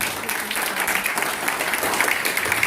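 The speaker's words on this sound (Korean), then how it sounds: "힘찬 박수로 환영해 주시기 바랍니다" Loud, sustained applause from a crowd in a party meeting hall as a campaign co-chair is welcomed to the stage, dense and even throughout.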